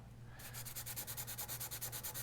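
Quick back-and-forth rasping strokes of sanding on a scratch-built plastic model box, a fast even rhythm of about eight strokes per second, close and fairly loud.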